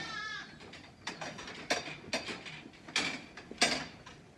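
Lambs in a barn give one faint, wavering bleat at the start, followed by a series of sharp knocks and rustles at irregular intervals.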